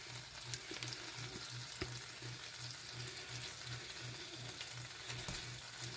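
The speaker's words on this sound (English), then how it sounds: "we're going to get our sausage browned off" Loose sausage meat browning in a frying pan for calzone filling, a soft continuous sizzle with a faint regular mechanical ticking pulse underneath, quiet and close, no talk.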